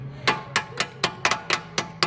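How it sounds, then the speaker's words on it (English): Small hammer tapping a part into place near a brake line on a vehicle, eight light, evenly spaced metallic taps close by with no talking. "So I'm gonna take a little hammer."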